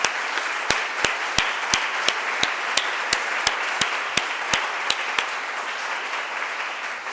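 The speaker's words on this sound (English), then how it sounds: "So you deserve another round of applause, and you're going to get one" An audience at a workplace diversity dialogue on transgender inclusion breaks into sustained applause: a dense wash of clapping with sharp, evenly spaced claps standing out above it, fading slightly toward the end.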